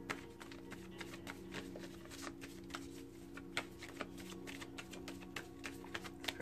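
A Goddess Tarot card deck is shuffled continuously at close range, giving a steady stream of soft riffling and tapping clicks with no voice over it.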